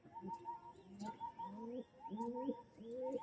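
A dragon face pigeon cooing in a steady series of soft, rolling coos, close and clear, with faint chirps and light background noise around it.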